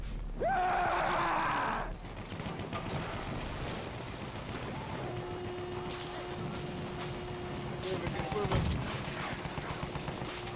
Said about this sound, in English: that field gun still got us, huh?